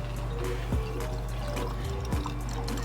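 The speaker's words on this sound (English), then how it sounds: "Now we pour into the bottle." Liquid potion poured into a bottle, a steady close trickle with a couple of low bumps and clinks as the stream runs, no voices over it.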